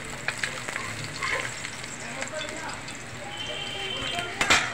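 Fish sizzles and crackles in hot oil with scattered pops and stirring scrapes, moderately close, while a person speaks over it.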